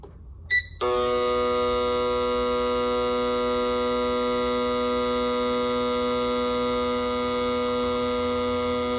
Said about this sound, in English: we're going to do the high-speed spray value test first